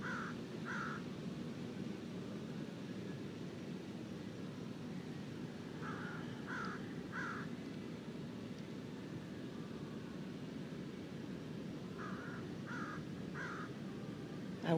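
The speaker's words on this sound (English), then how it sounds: "I wish I spoke Crow." Crows caw outdoors in short distant bursts of two or three calls, repeating at intervals over a steady low rumble of background noise.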